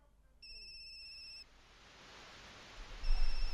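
A telephone rings at night in a visual novel game: a steady electronic ring tone that cuts off, then a hiss of rising static, with the ringing tone returning faintly near the end.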